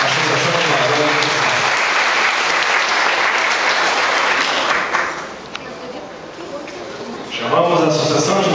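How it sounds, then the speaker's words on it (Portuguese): A crowd at a residents' association gathering gives a loud, dense round of applause that fades after about five seconds before clapping rises again at the end. "Uma salva de palmas, a Associação de Moradores."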